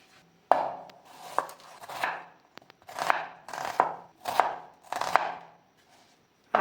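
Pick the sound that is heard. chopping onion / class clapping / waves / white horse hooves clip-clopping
chopping onion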